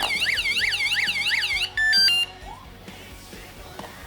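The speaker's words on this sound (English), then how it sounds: "So that's going to be the alarm for the bike." A loud electronic anti-theft alarm on a Lectric XPedition cargo e-bike wails in rapid rising-and-falling sweeps, then cuts to a shrill steady beep before stopping; faint movement follows.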